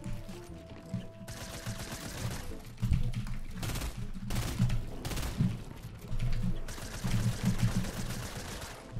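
Rapid bursts of automatic gunfire from Fortnite, the video game, crackle in dense volleys with short pauses between them, loud and close throughout, with faint chirpy game effects in the background.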